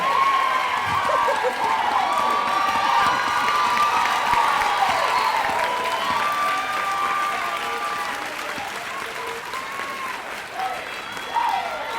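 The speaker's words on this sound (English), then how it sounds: "That deserves a standing ovation" A commencement ceremony audience gives a standing ovation, with sustained loud applause and scattered cheers and whoops filling the hall for the whole stretch and tapering slightly toward the end.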